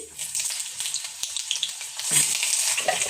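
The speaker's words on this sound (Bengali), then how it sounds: "কড়াতে কিছুটা সর্ষের তেল দিয়ে দিয়েছি, তেলটা গরম হয়ে গেছে। এখন আমি পটলটা দিয়ে দিচ্ছি।" Pointed gourd sliding into hot mustard oil in a wok sets off a loud, steady sizzle and crackle of frying, swelling briefly as more pieces go in, with no talking.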